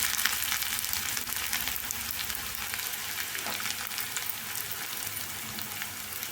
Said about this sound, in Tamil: வெங்காயம் நல்லா ப்ரௌனாக வதங்கணுங்க, அப்போ தான் கரெக்டாக இருக்கும்.